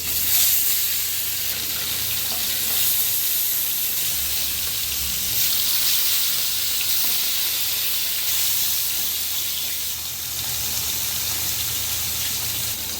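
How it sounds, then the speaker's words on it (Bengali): A continuous, even hiss of bata fish frying in hot mustard oil, broad and steady for the whole stretch with no talking. "তেল গরম হয়ে গেছে, মাছগুলো আমি দিয়ে দিই।"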